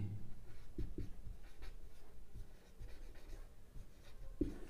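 Pen or pencil scratching out a maths equation on paper, soft irregular strokes and taps close by and quiet, with no talking.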